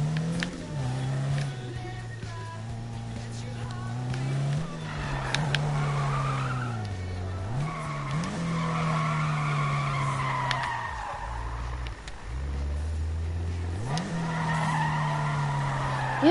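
Cars drifting in the video game Need for Speed, with engines revving up and down and tires squealing in long skids, continuous and fairly loud, with a faint voice now and then.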